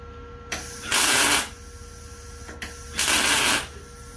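Tack welds on an old car, two separate crackling bursts of about half a second each, close and loud, separated by a quiet pause, with a steady electrical hum underneath.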